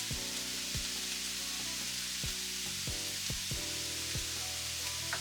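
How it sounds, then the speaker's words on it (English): Cabbage and seasoning sizzle steadily in a hot pan while a utensil stirs it, producing a constant close frying hiss over a low hum, with no speech. "And I give that a quick little stir just to get everything settled in."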